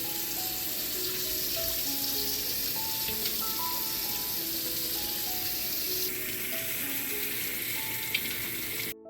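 Fish thawing under hot running water from a kitchen tap, a steady hiss of flowing water splashing into a sink, constant and close for the whole stretch with no talking.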